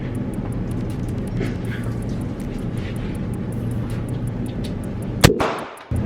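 A single sharp gunshot cracks out at a shooting range, loud and close, standing out against a steady background rumble of wind and distant noise.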